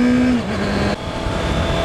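A Honda CBR650F sportbike pulling hard in first gear, its engine note steadily droning and climbing with a brief dip, heard close and continuous with wind noise and no talking.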